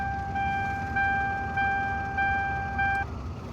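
A 1999 Toyota Tacoma pickup truck running after a fuse is put back in, with a steady low engine rumble. A thin electronic tone pulses on and off over the rumble.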